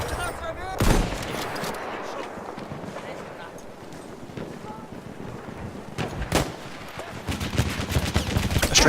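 Gunfire sounds from a shooter video game. Two sharp, loud shots ring out several seconds apart over a constant rushing, wind-like background that swells toward the end.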